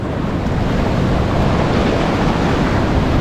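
Ocean swells crash into each other with backwash splashes along a New South Wales national park coastline, a loud, continuous roar of surf and washing water that fills the whole clip, with no talking.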